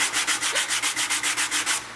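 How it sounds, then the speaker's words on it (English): Sandpaper rubs back and forth across a wooden sanding block in steady, even strokes, about a dozen close, loud scrapes in a regular rhythm with no talking. "So we want to sand that till you get it smooth."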